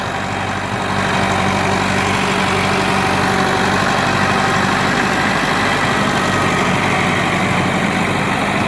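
Massey Ferguson 265 tractor from 1986 with its diesel engine idling: a steady, loud, close-up rumble that kicks in after a second and holds evenly throughout, with no talking.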